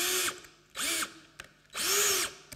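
A power drill with a 3/16 bit whines through wood in three loud bursts, each pitch sagging as the bit bites, with short pauses between runs.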